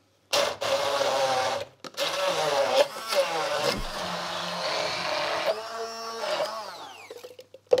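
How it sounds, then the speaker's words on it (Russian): A kitchen blender purees a sauce for funchoza in loud, whirring bursts that start and stop, with the motor's pitch shifting as the contents churn and a short pause between runs. "И теперь будем применять силу блендера, чтобы это все превратить в пюре."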